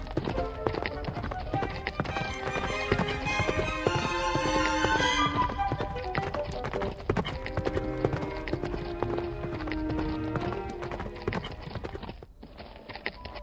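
Wild mustang hooves clop in a quick, steady rhythm, fairly loud and near, under a continuous bed of music, with a faint whinny in places.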